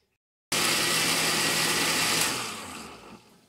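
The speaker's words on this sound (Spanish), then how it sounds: "Les voy a pausar para no darles mucha molestia con el ruido de la licuadora." A kitchen blender blends a marinade for spicy wings, a loud steady whir starting abruptly and running alone before winding down near the end.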